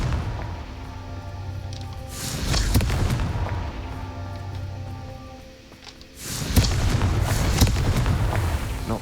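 A Confringo spell detonates twice in the Hogwarts Legacy video game, each loud booming blast followed by a rolling rumble against a low ambient background.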